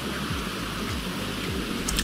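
Steady rain in the video game GTA V hissing over a surface, with a soft continuous patter and a faint low rumble underneath, no voices.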